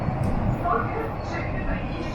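A Mumbai Metro Aqua Line train rumbles low and steady as it rolls over a crossover, heard from inside the carriage with a voice talking over it.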